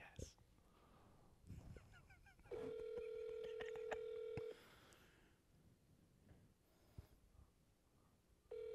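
A phone line tone sounds in a long steady burst, then starts again after a pause, with quiet background murmuring around it.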